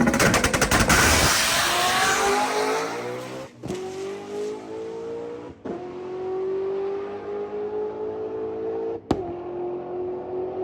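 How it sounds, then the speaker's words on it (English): A supercharged car engine revs hard and loud, the pitch climbing and holding through several sweeps. Sharp cracks of backfire pop from the exhaust pipes between the pulls, with one loud bang near the end. "Still a little bit of backfire coming out the pipes."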